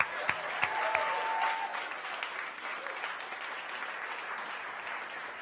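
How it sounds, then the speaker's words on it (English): A studio audience on a late-night style campus show breaks into applause for two guests, a moderately distant, even patter of many hands that starts strong and gradually thins. "let's give them a round of applause for Nick and Hannah"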